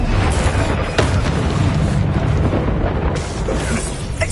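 A spell explosion from the wand in the video game Hogwarts Legacy: a dense, loud burst with a sharp onset near one second, rolling through continuous game noise, with more blasts and crackles following.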